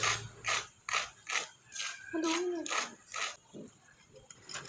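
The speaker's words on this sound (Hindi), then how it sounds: "अब आप इनकी आवाज़ सुनें कि ये कितने क्रिस्पी बने हैं।" A series of sharp, crisp crunches from crispy fried chicken, about eight bites or squeezes in quick succession, close up and fairly loud, with brief pauses between them.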